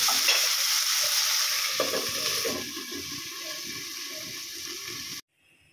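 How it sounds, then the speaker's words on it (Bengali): Eggplant with mustard and fenugreek greens sizzling and being stirred in a pan, a loud continuous frying hiss with soft scraping underneath that ends in sudden quiet. "এর মধ্যে 1/2 টিস্পুন লবণ দিয়ে ভালো করে নাড়াচাড়া করে ঢাকা দিয়ে আমি 5 মিনিট রান্নাটা করব"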